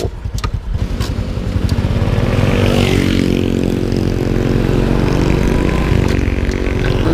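A Honda Dream 125 motorcycle engine runs steadily and loud while being ridden, a strong harmonic drone with fluttering exhaust pulses that holds even throughout, no talking.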